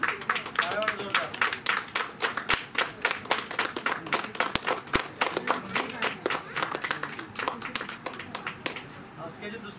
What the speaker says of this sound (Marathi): सगळ्यांनी टाळ्या जोरदार